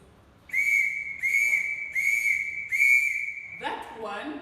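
A whistle used as a dispersal signal in basic guide training sounds four long, steady blasts in a row, loud and close, each held about half a second with short gaps, followed by a brief warbling note.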